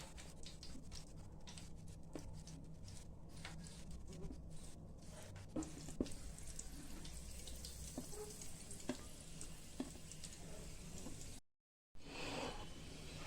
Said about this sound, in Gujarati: મુઠડી તળી લઈશું.